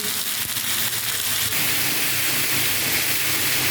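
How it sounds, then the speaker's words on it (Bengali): Mixed vegetables (potato, pointed gourd, eggplant, drumstick, ridge gourd, tomato) frying in oil in a pan, a loud dense hissing sizzle that stays steady throughout, with a few stirring knocks early on and no speech. "আলু পটল বেগুন সজনে ডাটা ঝিঙে টমেটো এই সমস্ত সবজি দিয়েছে দিয়ে ভাজছি"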